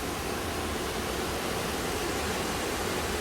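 The Düden waterfall in Antalya flows with plenty of water, a dense, constant broadband roar of falling water filling the whole stretch without any change or talk.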